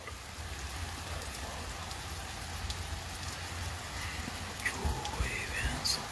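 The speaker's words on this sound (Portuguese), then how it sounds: "Chuva é benção de Deus." Steady rain patters on surfaces nearby in a dense, even hiss. A few louder drops stand out toward the end.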